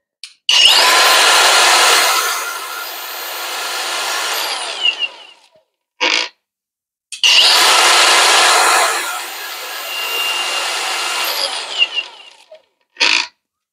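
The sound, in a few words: Dong Cheng cordless angle grinder running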